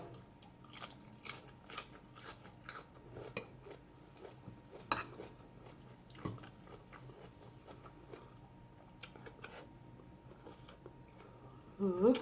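Crunchy, spicy food being chewed close up, with crisp irregular bites and clicks of cutlery against dishes, all fairly quiet and mostly free of talk.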